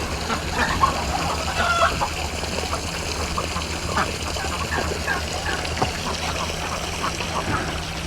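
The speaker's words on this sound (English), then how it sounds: "Is that roosters chasing after each other here this morning?" Roosters and hens on a farm on a morning, crowing and clucking with busy squawks and scuffling as the roosters chase each other, a dense, lively chorus of fowl sounding close by.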